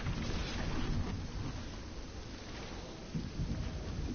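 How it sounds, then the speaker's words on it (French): Torrential poison-particle rain pours down in an Epic Games video game, a dense, steady hiss of rainfall with low rumbling swells underneath, close and continuous throughout with no talking. "c'est une pluie torrentielle de particules de poison"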